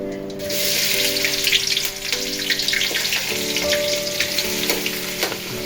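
Onions tipped into a large batch of chicken, about two kilos, frying in a pan make a loud, steady sizzle throughout, with light stirring scrapes and no talking.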